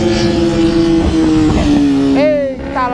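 A convoy of motorcycles, including a B-King and other big sport bikes, roars past on a road, engines loud and close with rising and falling pitch, while someone talks over the noise.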